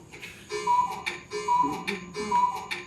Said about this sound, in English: Oh my God, I remember that cuckoo clock.